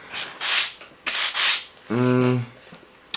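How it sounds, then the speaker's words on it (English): Scratchy rubbing strokes of 440 grit sandpaper on a diorama piece repeat in short bursts, close and clear, with one brief tonal hum in the middle. "I'm gonna be using my 440 and start sanding."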